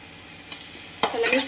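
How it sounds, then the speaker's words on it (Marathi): Onions frying in a pan until brown, with a soft sizzle that gives way to a sudden louder burst of stirring and frying noise near the end, close up and without speech. "तर कांद्याचा कलर हा ब्राऊन होईपर्यंत आपल्याला त्याला फ्राय करायचा आहे."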